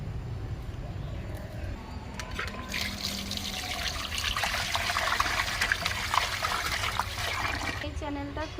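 Water running and trickling while rohu fish is washed, with splashing and handling noises that build in the second half, close and fairly loud.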